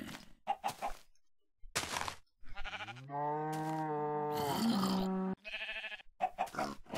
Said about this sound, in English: Don't worry, pigs, I'll come save you.